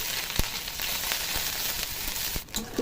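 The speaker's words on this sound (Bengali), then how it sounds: "পেঁয়াজটা হালকা একটু ভাজা হয়েছে" Chopped onion frying in oil with cinnamon, cardamom, cloves and black cumin for a Bengali doi begun curry, giving a steady close sizzle with a few sharp crackles and stirring clicks, no voice.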